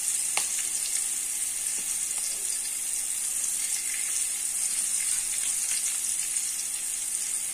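Chopped onions frying in a pan give a continuous close sizzle and hiss, with only a few faint clicks of stirring.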